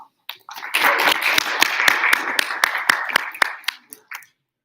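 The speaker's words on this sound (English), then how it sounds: "So everybody give them a round of applause." A student senate general assembly gives a round of applause, a dense burst of many hands clapping that starts quickly, holds for about four seconds and then tapers off.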